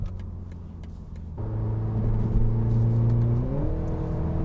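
A 2020 BMW Z4 sDrive30i convertible in Sport Plus mode runs quietly at first, then its engine steps up into a loud steady drone and climbs in pitch as it accelerates, heard from inside the car.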